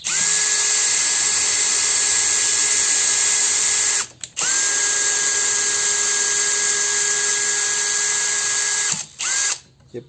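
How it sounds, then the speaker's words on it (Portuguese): A power drill fitted with a thread-cutting bit bores into metal without cutting fluid, whining steadily and loud in two long runs, each broken by a brief stop. "Vamos fazer o furo aqui. Ó, do mesmo jeito, faz o primeiro furo"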